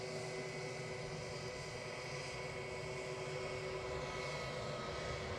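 A British Airways airliner at Edinburgh airport gives off a steady, distant jet engine roar that holds at an even level throughout.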